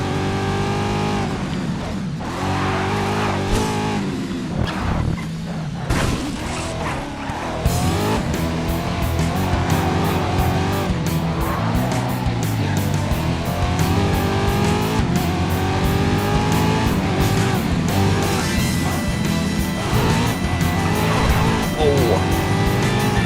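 Race car engine roaring and tires squealing in the Race Driver: GRID video game, a continuous loud revving drone with shifting pitch and skids, a voice talking over it.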